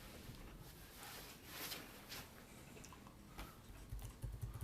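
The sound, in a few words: typing on a computer keyboard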